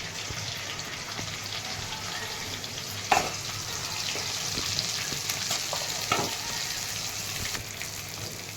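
Stuffed ridge gourd pieces filled with a spiced coconut mixture fry in oil, giving a steady close sizzle with a couple of sharp spoon clinks and scraping stirs over it.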